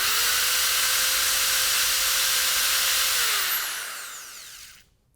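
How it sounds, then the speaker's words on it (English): A Manpa EZ Sander brush sander spins in a drill's keyless chuck, giving a loud, steady broadband whir with a faint tonal whine that runs for about three seconds, then winds down and fades to silence. "now we can insert it in our keyless chuck, and we're ready to sand"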